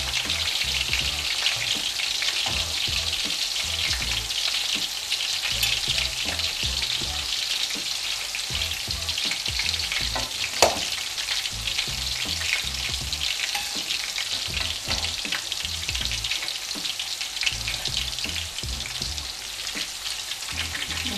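Food frying in hot oil until golden brown in a home kitchen, a steady, close crackling sizzle with tiny pops that continues evenly for over twenty seconds without talk.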